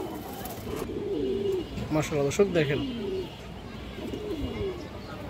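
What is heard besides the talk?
pigeons cooing, Indian Chini Kaldom pair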